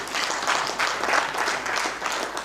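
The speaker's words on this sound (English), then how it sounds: "Please give a big round of applause for that." Audience applause at a business community gathering in Kampala, Uganda, a dense, steady wash of many hands clapping together, fairly loud and continuous throughout.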